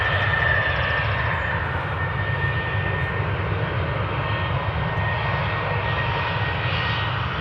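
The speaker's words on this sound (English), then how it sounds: "Boeing 737 from KLM on its way to Paris, Charles de Gaulle." A KLM Boeing 737 jet passes at Amsterdam Schiphol Airport, its engines giving a loud, sustained broadband roar throughout with no talk.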